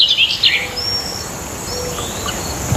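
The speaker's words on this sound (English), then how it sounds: "There's also a bird singing above, and he is pissed off about it." A small bird sings brief high chirps and whistled notes against a steady background hiss, fairly clear at first and then sparse and fainter.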